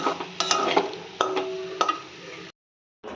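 Labra mixed vegetable curry with ghee stirred in a pan, a few close clinks and scrapes of a spoon against the metal over a soft sizzle, ending in a brief silence.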